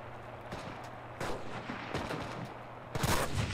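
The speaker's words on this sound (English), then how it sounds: "Hear shots from over here." Bursts of gunfire from a Battlefield video game sound fairly far off and quiet, with scattered shots and a louder volley near the end.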